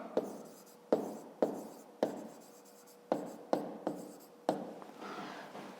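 A pen writes by hand on paper during a fifth-grade maths exercise. Close, quiet scratching comes in short strokes with sharp taps and pauses between them, and no one speaks.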